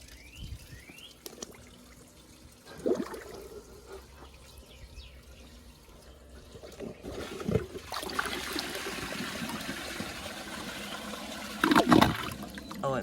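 A 2002 Crane Atlas toilet flushes, quiet trickling and drips at first, then a rising gush of rushing water building to a loud surge near the end.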